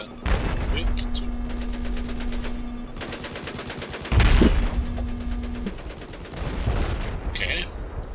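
Sustained automatic gunfire in Battlefield 4, a dense rapid rattle running almost without pause, with a louder burst partway through and a steady hum underneath.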